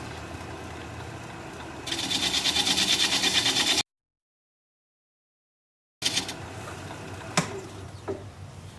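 A wood lathe spins a plum crotch live-edge bowl at about 530 RPM while a tool smooths the bottom, a low hum joined by a rising scraping rub. A short silent gap is followed by more scraping and a couple of sharp knocks.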